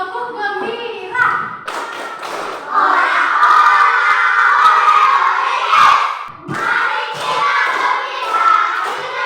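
Classroom of students doing the tepuk gembira rhythmic clapping routine, patterned claps and thumps chanted together in loud group voices, close by.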